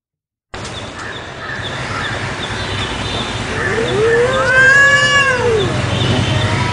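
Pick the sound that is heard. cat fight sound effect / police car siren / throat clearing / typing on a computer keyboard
cat fight sound effect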